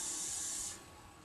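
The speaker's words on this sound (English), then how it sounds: "Now spray it as much as you can to make sure it stays there." Hairspray hisses from an aerosol can in one continuous close burst of about three quarters of a second onto a victory roll hairstyle, then cuts off, leaving quiet room tone.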